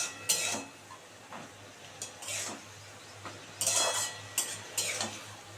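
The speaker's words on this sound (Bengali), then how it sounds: "একটু নেড়ে দিই।" A spoon scrapes and stirs snake gourd curry in a pan, with several bursts of clattering stirring through a faint background hum, heard up close with no talking.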